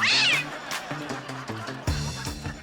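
A cat in a Hindi family comedy show gives one high, wavering meow at the start, then voices and studio noise carry on under it.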